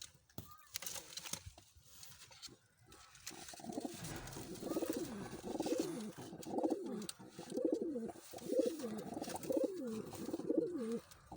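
Breeder pigeons in a loft in Islamabad, Pakistan, coo in a soft rhythmic series of repeated throaty calls, fairly faint and close, following a few scattered knocks and rustles.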